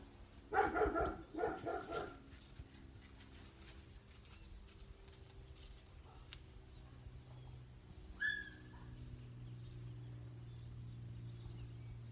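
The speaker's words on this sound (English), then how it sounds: "one of our dogs has been running over to the neighbor's house and barking at them" A dog barks several times in quick succession at the start, fairly distant and soft. A quiet outdoor hush follows, with faint bird chirps and distant noises.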